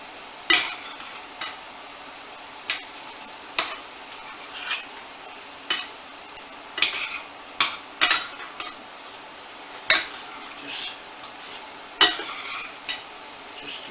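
Spoon scraping and clinking in a hot pan while sauce is spooned over steak Diane, a dozen or so sharp metallic taps at an irregular pace above a faint sizzle, close by and without talk.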